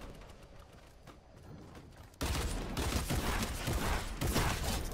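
Gunfire in a gun game match in a video game, with a pistol and dual pistols in use, comes as a loud dense burst of shots that starts abruptly partway through and keeps going, over quieter game ambience before it.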